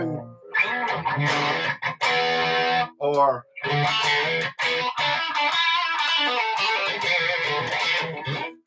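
Electric guitar with a Super Distortion pickup in coil-split mode plays distorted chords and riffs, loud and continuous with brief gaps, a Telecaster-like bright edge; a short spoken word comes in near the start.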